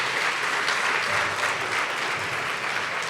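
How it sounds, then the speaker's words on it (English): A live-event audience at an entrepreneurship gathering gives Stephen a round of applause, dense steady clapping at even volume throughout with no voices on top. "Can we give Stephen a round of applause?"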